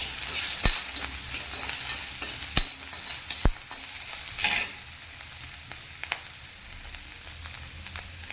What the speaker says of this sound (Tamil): இப்போ நம்ம தேங்காய் போட்டு வதக்கலாம்.